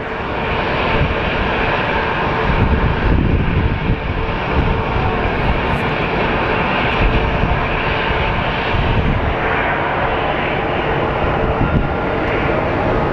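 A DC-10 jet airliner passes at Sky Harbor Airport in Phoenix, its loud, steady engine roar filling the air for several seconds with a slight swell midway.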